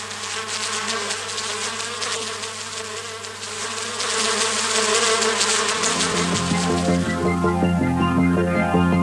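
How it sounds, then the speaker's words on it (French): A bee buzzes close by while searching an aconite flower for nectar, a sustained droning hum that grows louder partway through and keeps going steadily. "Cette abeille, qui arrive pour la première fois, semble hésiter et cherche à comprendre où se trouve le nectar"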